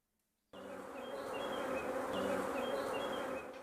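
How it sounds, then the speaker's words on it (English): Bees buzzing around hives, a dense steady hum that starts abruptly and holds close and clear, with individual insects droning past in short rising whines over the swarm. "The bees aren't the only things buzzing round here."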